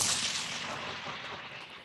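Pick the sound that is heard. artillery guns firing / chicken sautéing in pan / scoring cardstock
artillery guns firing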